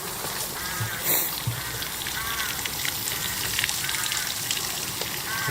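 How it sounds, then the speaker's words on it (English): Water pours steadily out into a river along a muddy walking path at Holywell, a continuous broadband rush heard close by throughout, with faint scattered clicks and no talking. "The water comes down, goes down, and it comes actually out over here."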